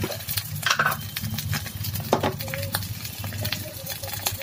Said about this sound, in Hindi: इसको अच्छे से मैश करना मैं भी करती हूँ